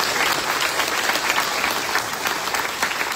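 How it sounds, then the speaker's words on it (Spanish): Congregation applauding during a solemn Catholic Mass for Our Lady of Altagracia at a church in Miami; dense, steady clapping from a large crowd fills the space continuously with no voices. "Vamos a darle un gran aplauso."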